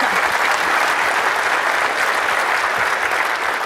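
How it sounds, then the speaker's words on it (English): A conference audience at a Docker Swarm Mode technical talk breaks into a steady, dense round of applause, loud and continuous for the whole stretch with no voices over it. "can we give them another round of applause"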